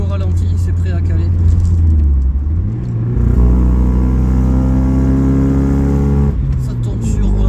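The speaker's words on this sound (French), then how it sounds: "Ça, elle est prête à caler là. Quand je suis au ralenti, c'est prêt à caler." Car engine with an ignition fault on two cylinders idling roughly and close by, a loud uneven low rumble whose pitch shifts and dips as if about to stall, with someone talking over it.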